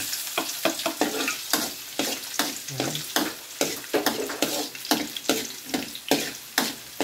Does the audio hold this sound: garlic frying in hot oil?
yes